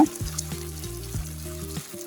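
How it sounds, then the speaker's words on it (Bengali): Eggplants frying in a pan for Bengali eggplant mash give a steady close sizzle with a low tonal hum running underneath, continuous for about two seconds with no talking. "আমি আর একটু ভালো করে ভেজে নিব যেন কোনো প্রকার পানি না থাকে।"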